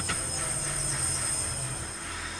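A Birmingham Cross City line train in Train Sim World 2022 brakes on approach to Erdington, a steady close hiss of air brakes over low rolling rumble, with a faint squeal.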